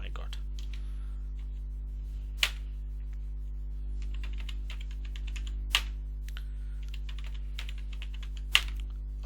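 A computer keyboard is used to type a password: soft, quick keystroke clusters patter over a low electrical hum, punctuated by three sharper, louder key strikes spaced a few seconds apart.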